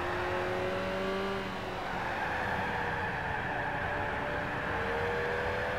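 Tuscan race car engine in Gran Turismo 5 Prologue, a loud continuous engine roar with shifting revs and a brief dip in pitch early on, no talk.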